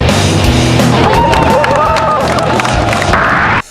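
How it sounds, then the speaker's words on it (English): Clapping and cheering crowd effects in a Samsung Gear VR game, a loud, busy burst of applause, whoops and crowd babble that cuts off abruptly near the end. "Everyone's clapping or whatever and cheering."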